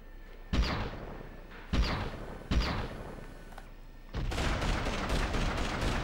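Gunfire aimed at the player in the Beverly Hills Cop PS2 game: three sharp, loud shots spaced about a second apart, followed by a denser, sustained burst of rapid fire with no talking.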